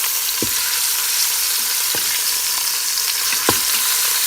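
Short ribs browning in hot olive oil in a pan give a loud, constant sizzle, close up, with a few soft knocks as the meat is turned.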